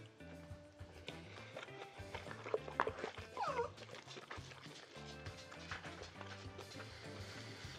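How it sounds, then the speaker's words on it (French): A dog whimpers and yips beside its owner, begging for a bowl of Korean frozen food, with soft whines rising over faint background sounds and speech. "Mon chien à côté qui en veut."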